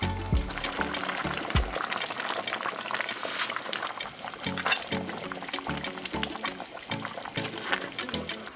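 Grace broad beans are poured into a pot of Jamaican-style curry cow foot, giving a sustained liquid splash and pour with bubbling, irregular glugs that persist throughout.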